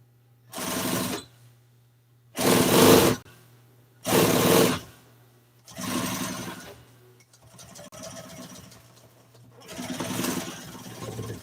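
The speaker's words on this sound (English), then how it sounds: "All I'm doing is just sewing this listing around here" An upholstery sewing machine stitches listing for 1955 Chevy seat covers in five separate bursts of rapid, buzzing stitching, each lasting about a second, with quiet pauses between them and a steady low motor hum underneath.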